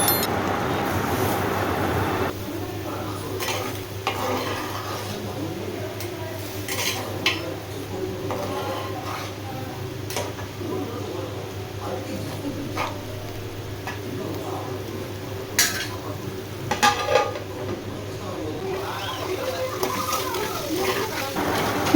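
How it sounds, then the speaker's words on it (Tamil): Erode-style country chicken fry with added water is stirred in a pan, with scraping, clinking spoon-on-metal strokes sounding intermittently over a steady background hum. "அடிக்கடிக்கு கை விடாமல் கிண்டிட்டே இருங்க"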